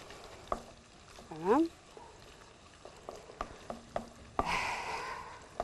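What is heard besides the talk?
sausage sizzling while stirred in a frying pan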